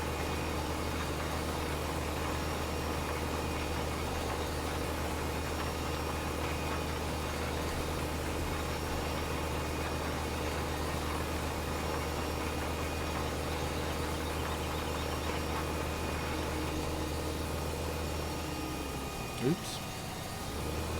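Tractor engine idles and drones steadily in Farming Simulator, a constant low hum that goes on for a long stretch and shifts slightly near the end.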